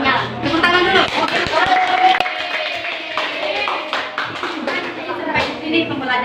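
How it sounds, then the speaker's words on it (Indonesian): A classroom of students clapping hands together after a lesson, a dense patter of claps with some voices mixed in, fairly loud and close throughout. "Tepuk tangan dulu"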